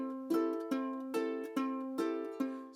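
Ukulele tuned GCEA, played with a claw picking pattern on the open strings, no fingers fretting; a steady, quiet run of plucked notes repeating in an even rhythm, each group rising and ringing out.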